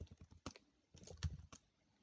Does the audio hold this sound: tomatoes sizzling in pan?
no